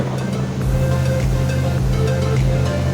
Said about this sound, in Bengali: তো আমাদের স্পিড বোট ছেড়ে দিল